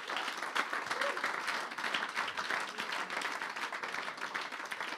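A church congregation at a Sunday service bursts into sustained applause, dense and even clapping from many hands that fills the room, with voices mixed into the crowd noise.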